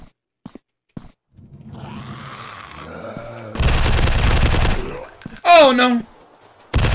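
Gunfire bursts from the zombie survival video game Zombieland Fukuoka, a dense loud volley lasting about a second, followed by a sharp shot and another abrupt blast, with a player's brief dismayed remark and sighing between.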